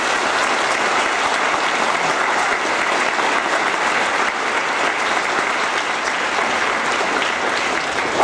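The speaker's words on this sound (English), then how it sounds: "another round of applause for the girls soccer team" A large crowd applauds the girls soccer team in a steady, loud, continuous wash of clapping that holds evenly throughout without any talk over it.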